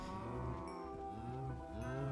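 Cows in Minecraft low in overlapping, drawn-out moos with wavering pitch, close and loud, filling the whole moment without any talk.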